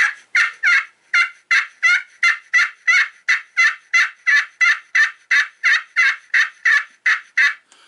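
A turkey call imitating a gobble, loud and close, with rapid evenly spaced yelps repeating in a steady rhythm throughout.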